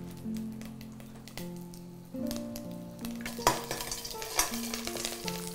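Urad dal, peanuts and curry leaves frying in a little oil for a kodo millet rice dish, a close steady sizzle with stirring scrapes and a few sharper pops and clinks.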